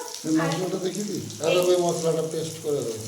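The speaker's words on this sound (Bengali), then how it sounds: "একটা একটা করে ভাজবো" Boiled food pieces frying one by one in a pan, a sizzle heard beneath a person talking throughout.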